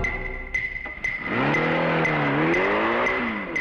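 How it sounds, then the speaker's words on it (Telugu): Car engine in a film scene revs up with rising harmonic whine and tire squeal, roaring loudly as the vehicle speeds away, preceded by faint clicking and ticking. "చైన్యని కారు దూసిపోయిన శబ్దం వినబడుతుంది."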